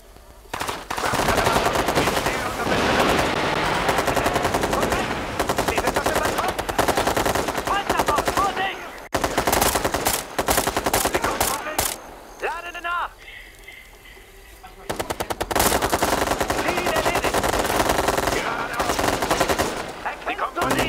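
Rapid automatic gunfire from the video game Ghost Recon Future Soldier bursts almost continuously in long loud volleys with a brief lull, while a player talks over it.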